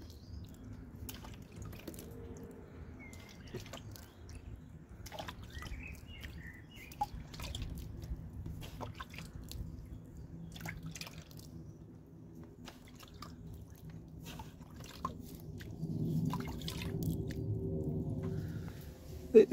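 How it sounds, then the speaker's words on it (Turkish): Sown seeds covered with peat being gently watered, soft scattered drips and light splashes close by over a quiet outdoor background with faint birdsong. "Hafif hafif suluyoruz."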